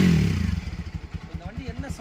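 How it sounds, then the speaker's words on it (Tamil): A rebuilt TVS Apache RTR 200 4V motorcycle engine, fitted with a new cylinder kit and valve kit, idles close by with a steady, even low thumping beat and no voices. "இந்த வண்டி என்ன சவுண்டில் வந்தது, இப்போ என்ன பீட்டில் இருக்குதுன்றதை லைவாகவே செக் பண்ணிங்க"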